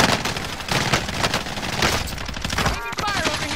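Rapid bursts of gunfire in an online shooter game, including sniper fire from atop a prison, loud and dense with overlapping shots and impacts, crackling volleys filling the whole stretch.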